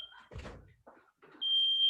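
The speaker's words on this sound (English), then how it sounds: "it seems my alarm just seems to have gone off very helpfully during that" A home smoke alarm sounds with a steady high-pitched electronic beep, brief at first and then sustained, following a door bump and some faint background noise.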